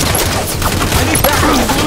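Dense, continuous rapid gunfire from the multiplayer shooter Halo 5 beta, a loud sustained fusillade of overlapping automatic shots filling the short moment with no pause.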